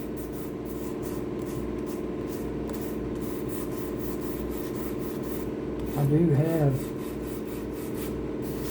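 Steady hand sanding on a guitar body coated with pour fill, a continuous close-up rasping rub in repeated strokes, with a brief spoken phrase near the end.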